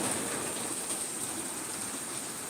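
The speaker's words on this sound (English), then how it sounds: "Love the rain." Steady rain falling during a small thunderstorm, a continuous even hiss with no distinct thunder, holding level throughout.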